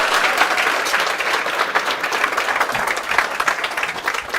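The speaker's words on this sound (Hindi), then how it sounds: "जोरदार तालियां से स्वागत कीजिए" Audience applause welcoming a guest introduced as one of the owners of Reliance Industries Limited, a dense, steady wash of many clapping hands at close range throughout, with no voices over it.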